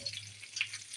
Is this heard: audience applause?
no